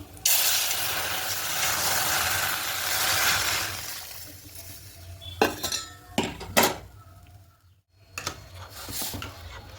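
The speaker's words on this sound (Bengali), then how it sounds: "এবার এখানে আম ডালটা দিয়ে দেবো" Mango dal poured into a pot of hot tempering with dried red chillies and five-spice seeds gives a loud rush and hiss at first. Metal clinks and clattering of a pot and utensils follow in short bursts.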